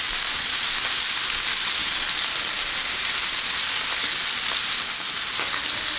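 Pot roast searing in oil in a hot pan, a steady loud sizzle and frying hiss that holds without a break, with faint stirring and spatter underneath and no talk.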